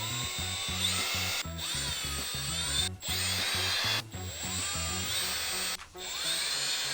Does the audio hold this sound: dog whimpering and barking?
no